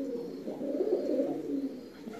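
Pigeons coo softly and continuously in a loft, a low steady burbling from several birds close by, with no talk.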